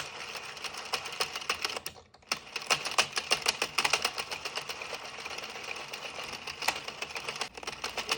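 An Addi Express 22 circular knitting machine is cranked through rows, making a rapid run of plastic clicks and clacks, near and fairly quiet, with a brief pause early on before the ratcheting resumes.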